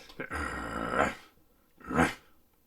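A person imitating a dog growl with the voice, delivering a long, throaty rumbling growl followed by a shorter second growl after a brief pause, loud and close, with no other sound.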